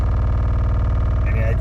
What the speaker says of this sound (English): just to hear this very interesting noises on start up